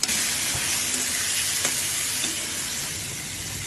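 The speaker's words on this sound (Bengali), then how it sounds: "এখন আমি শুটকিটা বসাইতেছি। এখন শুটকিগুলা দিয়ে দিলাম," Dried fish (shutki) sizzles loudly in a hot pan, a steady hissing fry with faint spatters, close and continuous, easing slightly toward the end, with no talking.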